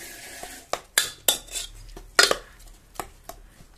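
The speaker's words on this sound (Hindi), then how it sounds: "अभी हम इसको अच्छे से घोल देंगे चम्मच की सहायता से" A metal spoon presses and mashes cooked stinging nettle greens in a pot, giving a series of soft, irregular clinks and scrapes against the metal, close and fairly quiet.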